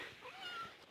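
A house cat gives a single soft, short meow, faint and close, with no other sound around it.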